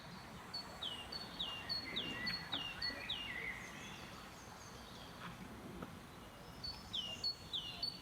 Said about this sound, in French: C'est alors que j'ai entendu le murmure multiple des chants d'oiseaux.